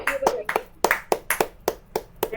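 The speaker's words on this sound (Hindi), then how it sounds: "सबसे पहले विशाल प्रमाणिक जी के लिए जोरदार तालियां बजाइए" A group at a recognition event claps for honored members in a slow, steady rhythm, with about nine distinct, evenly spaced claps ringing out fairly close and crisp.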